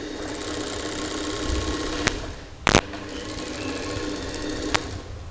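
An overlocker sewing machine runs steadily as it stitches the raw edges of fabric for a pair of shorts. It gives a close, even mechanical whirr broken by a few sharp clicks, with no talking.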